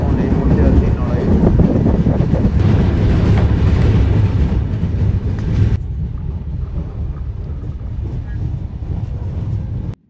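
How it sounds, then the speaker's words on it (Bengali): Jahanabad passenger train running at night near Narail, on the Dhaka to Khulna route: a loud, steady rumble of wheels and carriage noise with wind rush, which drops to a duller, quieter roar about halfway through and then cuts off. "রাতের নির্জনতায় ছুটে চলা এই ট্রেন যেন সময়কেও ছুঁয়ে যাচ্ছে"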